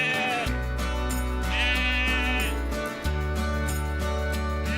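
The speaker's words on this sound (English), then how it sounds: "These Suffolk sheep belong to brothers Gavin and Scott Brown." Suffolk sheep being gathered on a farm near Dalkeith, Scotland, let out a few wavering bleats, one drawn-out call clearly in the middle, heard over a steady tonal background.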